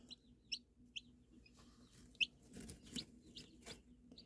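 A young lavender bantam Cochin chick peeps softly with several high, thin chirps at close range, alongside faint rustling and light scratching sounds in a quiet indoor pen.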